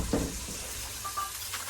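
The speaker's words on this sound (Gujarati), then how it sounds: "વઘાર મારવાનો ચાલુ થઈ ગયો હો" Onion tempering sizzling in hot oil in a small home kitchen, a steady close hiss with faint clinks of a utensil stirring the pan.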